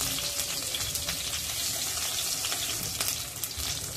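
Finely chopped green chillies go into hot oil with cumin and sizzle and hiss loudly, close up, a dense and steady crackle that lasts the whole time with no talk.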